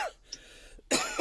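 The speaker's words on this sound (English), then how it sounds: "Should have just coughed." A cough or throat-clearing bursts out loudly, then a second rasping burst follows after a short quiet stretch, close to the microphone with no talk over it.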